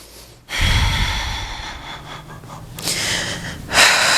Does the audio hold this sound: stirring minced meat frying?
no